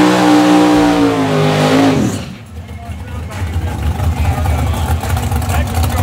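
A Camaro drag car at a no-prep drag race at Benton Speedway revs loudly nearby, its engine climbing and then dropping off before a steady rumble continues with background noise.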